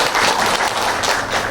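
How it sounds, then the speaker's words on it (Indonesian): An audience at an Indonesian training session on healthy menus for stunting prevention applauds for Rotary Club Indonesia. Dense, steady clapping fills the whole short stretch with no talk over it. "Tepuk tangan dong buat Rotary Club Indonesia."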